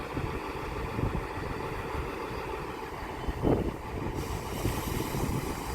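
A Class 150 diesel train standing at Doncaster station, its engine idling in a steady low rumble with a brief clunk midway, heard close and continuous without voices.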